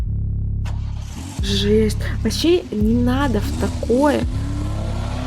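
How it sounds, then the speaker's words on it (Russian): A video-game car engine revs and pulls away, its pitch rising and falling in bursts over several seconds while someone talks over it. "Звук мотора уезжающей машины запустил отсчет времени."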